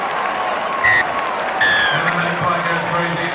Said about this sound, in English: That'll bring a cheer, I'm sure, even from the parochial Newcastle supporters